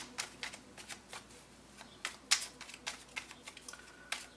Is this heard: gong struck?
no